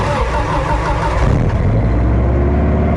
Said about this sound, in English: we're going to start all of these without opening the garage doors and just let them idle